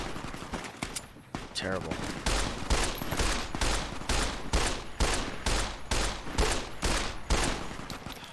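Repeated gunshots from Fallout: New Vegas crack out at a steady, evenly spaced rhythm, loud and sharp, with someone speaking briefly near the start.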